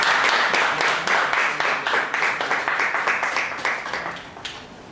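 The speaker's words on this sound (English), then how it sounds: "We applaud her." Conference attendees at St. Mary's University of Minnesota applaud a presenter, a burst of close, rhythmic clapping that starts strong and gradually thins and fades over several seconds.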